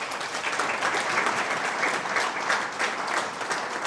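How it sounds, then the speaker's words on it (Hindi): Dense, steady applause from an audience at a motivational talk for SSC exam students, crisp clapping with no gaps for the full four seconds and no voice over it. "तो एक बार मेरे लिए ताली तो बजाइए।"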